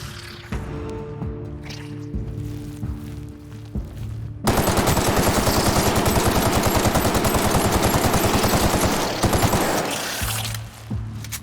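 Sustained rapid automatic gunfire in The Outer Worlds video game, a dense loud burst of rattling shots lasting several seconds, preceded and followed by quieter game music and ambience.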